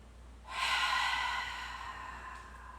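A single deep, audible breath during a seated yoga pose, swelling and then easing off slowly in a quiet room with no talking.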